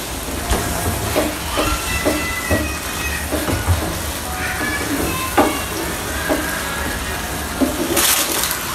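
Noodles cooking in a pan, a steady hiss and sizzle under scattered clinks and knocks of utensils, close by and fairly loud throughout.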